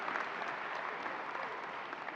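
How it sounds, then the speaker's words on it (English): A commencement crowd at a May 2018 undergraduate graduation applauds in a steady, distant, soft wash of many hands clapping. "You're going to get an applause at every line there."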